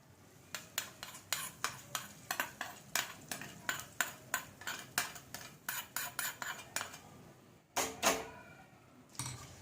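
A metal spoon clinks steadily against a bowl while hot tempering and crushed peanuts are stirred into red pumpkin bharit, about a dozen close, rhythmic scraping taps followed by a couple of louder knocks.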